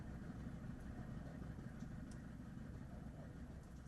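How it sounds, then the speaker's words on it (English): An unlit boat's motor idles past on a very dark night at sea, a faint, steady low rumble that drones on without a break. "this boat just keeps idling past."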